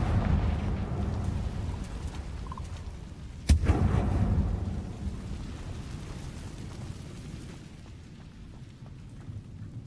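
A blasting-curse explosion in a Harry Potter video game hits as one sharp boom, followed by a deep rumbling roar that slowly fades under steady ambient noise.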